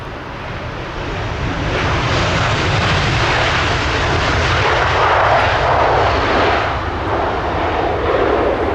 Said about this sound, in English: So we have an A340, an Airbus 340 coming into land now.